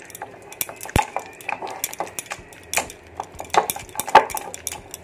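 Curd is mixed into brinjal pachidi in a bowl, with a spoon clinking and scraping against the bowl in quick, irregular strokes, close and fairly loud, and no voice over it.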